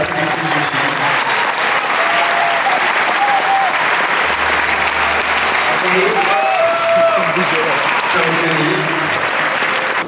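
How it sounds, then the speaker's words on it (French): Loud, sustained audience applause for a film producer at a screening in Paris, a thick continuous wall of clapping with faint voices and whoops mixed in. "Je voudrais que vous applaudissiez très fort Denise Rim,"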